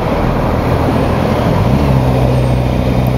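Steady, loud road and traffic noise heard from inside a moving vehicle, a constant broadband roar with a low engine hum and no gaps.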